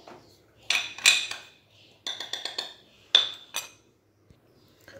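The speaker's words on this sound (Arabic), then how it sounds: "وكنضربهم بالخلاط اليدوي على هذا الشكل هذا" Quick bursts of a metal hand whisk clinking against a bowl, beating cocoa, sugar and starch, come in short rhythmic runs with pauses between, close and crisp.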